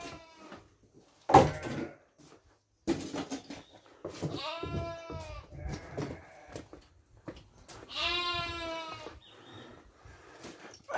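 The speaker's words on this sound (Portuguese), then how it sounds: "Aquelas ovelhas lá que a gente soltou." Bleating from a flock of sheep left loose on a farm, several harmonic calls rising and falling in separate bursts, fairly close, with a few knocks and rustles between them.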